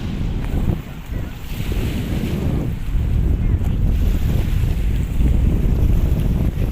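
High-tide waves at Manila Bay, with continuous choppy water sloshing and washing heard close up under heavy wind noise buffeting the microphone, with no speech.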